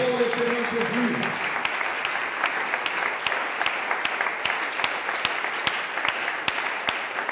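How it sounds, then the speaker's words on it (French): A church congregation at a seminar in Brazzaville applauds and acclaims, with steady massed clapping and scattered sharper claps continuing for several seconds after a voice briefly sounds at the start. "Acclame encore le Seigneur Jésus."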